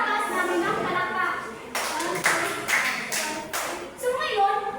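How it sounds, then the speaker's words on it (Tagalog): A children's class claps for two pupils, short bursts of scattered hand clapping breaking in and out amid children's chatter and voices in a small room. "bigyan natin si Leon at si Sakas namin ng palakpak."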